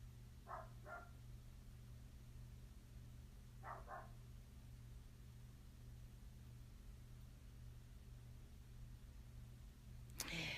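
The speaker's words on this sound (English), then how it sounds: "pretend like we don't hear my dog barking outside." Faint, distant dog barks come in two brief pairs over a steady low hum, followed by a short click near the end.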